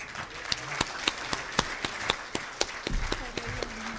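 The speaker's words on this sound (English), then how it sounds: "join me and give our speaker, Director Jasareno, a warm applause." A mining club audience applauds a speaker with light, sparse clapping, where separate sharp claps stand out over a soft background patter and some low murmur and movement toward the end.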